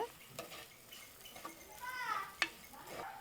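Ingredients for a fried-fish curry are stirred in a pan, a faint sizzle under intermittent spatula scrapes and clinks, quiet and close.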